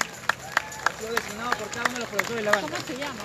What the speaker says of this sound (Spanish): vamos a recibir con fuertes palmas